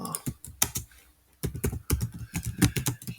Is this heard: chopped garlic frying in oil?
no